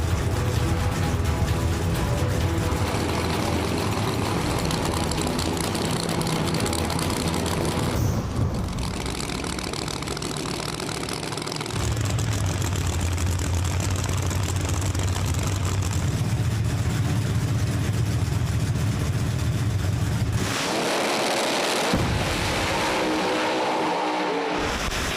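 Drag race cars idle at the line at a no-prep street racing event, among them a Pro-Charged Camaro. Loud, rough engines rumble steadily, with shifts in tone and a brief rev before a sudden drop.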